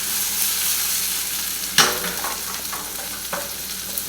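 Fresh basil and spinach cook in a hot pan for an omelette with a steady close sizzle, broken by a sharp stirring scrape and a few smaller clatters; no talking.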